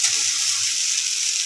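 Potatoes fry in a pan with very little oil, giving a loud, dense, continuous sizzle close by, steady throughout with no speech over it.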